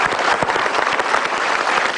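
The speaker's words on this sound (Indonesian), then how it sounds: "Oke, tepuk tangan dulu dong buat Dr." A talk-show audience claps for Dr. Caroline in a brief, dense burst of applause, steady and fairly loud throughout.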